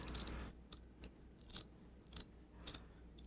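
Scissors cutting a piece down shorter, several crisp snips in a regular rhythm about half a second apart, close and quiet in an otherwise still room.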